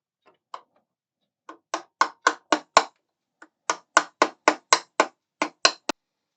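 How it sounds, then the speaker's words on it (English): A hammer taps parts into a 1:8 scale Mercedes 300SL Gullwing model: a couple of isolated light knocks, then a quick run of five sharp taps, a pause, and a longer burst of about eight close, crisp strikes. "Use my hammer there to get them in."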